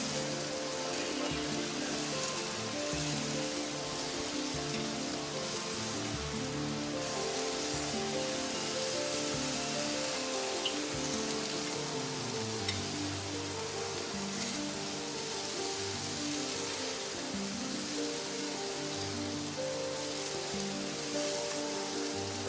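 Shrimp, salmon skewers and vegetables sizzle steadily on a grill with juice added, a continuous close hiss and crackle with no talking over it.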